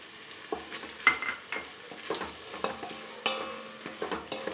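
Garlic and rasam powder sizzle in hot oil for a tempering, with steady frying crackle under repeated scraping stirs of a spoon against the pan, close and clear with no voices.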